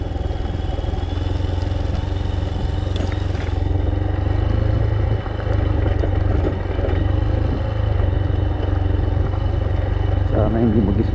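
Motorcycle engine droning steadily while riding a loose-rock trail on an inter-town access road in the San Jorge area of Samar, with clattering over rocks, close and loud throughout, a voice speaking intermittently.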